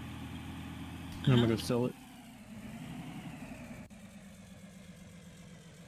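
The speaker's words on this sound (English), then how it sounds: "There sounds like there's a vehicle." A vehicle engine idles in the Arma Exile video game, a low, steady hum running throughout under brief nearby speech.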